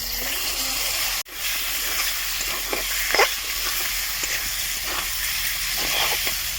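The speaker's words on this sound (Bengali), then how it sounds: "আমার মশলাটা ভাজানো হয়ে গেছে," Ground cumin paste and turmeric spice paste fry in hot oil, giving a steady close sizzling hiss with a brief dropout and occasional louder spatters and stirring noises.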